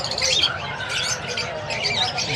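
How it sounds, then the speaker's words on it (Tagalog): Lutino parrots and other caged birds at a bird market in Bocaue, Bulacan, squawking and chirping in a dense, close chorus that never pauses. "Napakaraming ibon dito nila kuya Khalid, mga tol. Iba't ibang klase."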